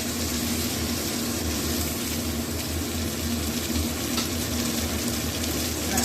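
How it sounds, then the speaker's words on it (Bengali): Potatoes and onions frying in a covered pan on a gas stove, giving a steady, even sizzle and hiss that stays at one level throughout, close by and with no talk over it. "তাই এই আলু পেঁয়াজটা ভাজবো।"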